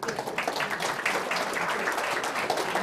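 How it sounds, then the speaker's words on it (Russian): Audience applauding steadily as a speaker comes onto the stage at a developer club meetup, a dense, even wash of many hands clapping throughout. "Ну, выходи, выходи. Мы тебе похлопаем."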